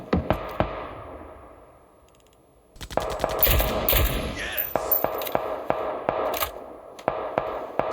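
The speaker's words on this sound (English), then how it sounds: "can see a few shots coming out now" Gunfire in a video game crackles sporadically with a few distant shots at first, then a dense run of sharp, rapid shots and bursts that continues to the end.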